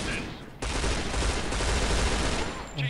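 AK rifle fire in the mobile shooter Point Blank: Strike, a dense continuous burst of rapid shots that stays loud and close for most of the stretch, with no other sound over it.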